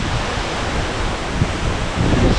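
Aagaya Gangai waterfall in the Kolli Hills, heard close up as a steady, loud broadband roar of splashing and falling water with no break.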